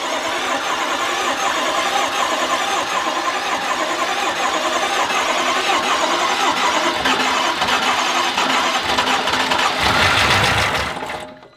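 A BMW M5 engine with a rebuilt 1000-horsepower motor cranks steadily without firing while its fuel pump is disconnected, the starter whirring loudly and evenly for about ten seconds before cutting off.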